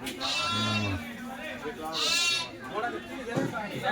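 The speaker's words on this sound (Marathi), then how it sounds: "गुजराती निजामपुरी मेंढे आहेत" Two clear bleats from Gujarati Nizampuri sheep, close and loud, spaced about two seconds apart, with faint murmuring around them.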